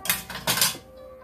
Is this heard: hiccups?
no